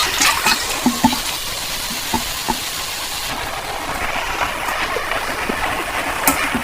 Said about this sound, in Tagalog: kumukulo na po ang ating gata.